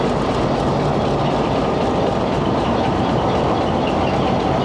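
A Hitachi HBU 208060 diesel locomotive rumbles nearby with a dense, steady engine drone and rail noise that holds at constant loudness throughout.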